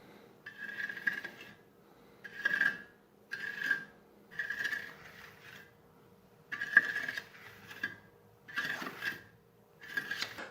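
Textured paint is applied to a wall and wiped off with a damp cloth in short, rhythmic rubbing strokes. About seven separate scraping bursts are heard close up, with quiet pauses between them.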